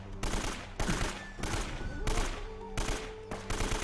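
AK rifle gunfire in the video game Uncharted: Drake's Fortune, loud rapid bursts in several long stretches separated by short gaps, with game noise beneath.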